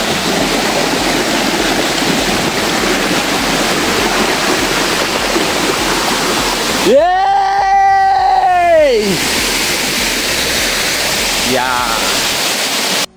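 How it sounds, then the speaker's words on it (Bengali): The third tier of Khaiyachhara waterfall in Mirsarai, Chittagong, roars with a constant loud rush of water; a voice briefly cries out over it partway through. "এটা হচ্ছে ঝর্ণার তৃতীয় ধাপ"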